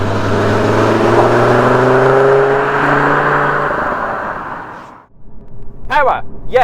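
An Audi RS3 with a 7-speed gearbox and 362 brake horsepower accelerates hard on the road, its engine note climbing loudly and steadily for several seconds before easing off, with speech following afterward.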